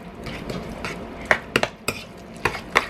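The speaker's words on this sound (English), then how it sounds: "And then we will just stir this all together." A spoon stirs a chickpea salad with onion, thinly sliced capers and lemon juice in a bowl, making a series of close, light clinks and wet scrapes at irregular intervals.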